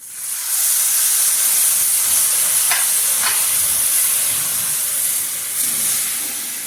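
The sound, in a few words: tamarind water poured into hot pan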